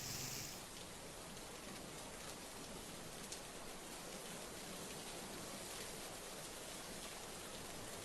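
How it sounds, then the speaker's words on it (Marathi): Heavy monsoon rain pours down steadily in a flooded city, a dense, even hiss of water on surfaces that holds unbroken from start to end with no voices. "पिंपरी चिंचवड शहरात मुसळधार पाऊस पडतोय."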